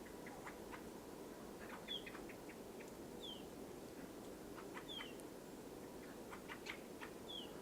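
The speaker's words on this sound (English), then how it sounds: "two redwings over there now. Listen to that noise." Thin, high, down-slurred calls of redwing thrushes come at irregular intervals, faint and distant over a steady background hiss, in winter.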